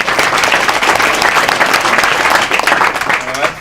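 An audience at an evening expert talk applauds loudly and steadily, a dense sustained clapping that fades slightly at the end.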